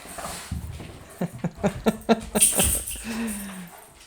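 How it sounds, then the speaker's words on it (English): A small, loud dog, a hen, gives a run of short yaps and whimpers that rise and fall in quick bursts, close and moderately loud, with a brief whine near the end. "You're just a loud dog."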